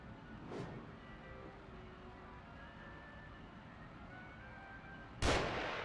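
Gunfire from an unseen shooter in the horror video game The Evil Within: two sharp, loud shots, one early and a stronger one near the end, standing out over a steady low ambient rumble with no talking.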